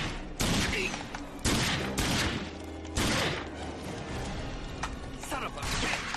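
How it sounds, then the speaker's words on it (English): Rapid bursts of gunfire crackle in the RAGE video game, several loud volleys coming in quick succession against a steady din of combat noise. "Who's shooting at me?"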